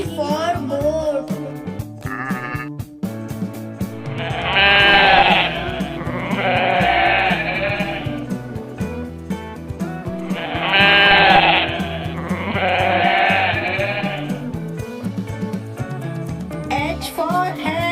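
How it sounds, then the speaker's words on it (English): Goat bleats in a children's phonics song come in two repeated groups of wavering cries over cheerful backing music, loud and close, with sung voices around them. "G for goat. G for goat."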